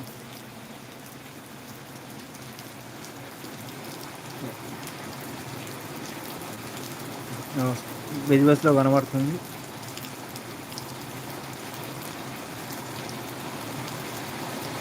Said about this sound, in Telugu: వర్షం స్పీడ్ పెరిగింది వర్షం ఎక్కువ కురుస్తుంది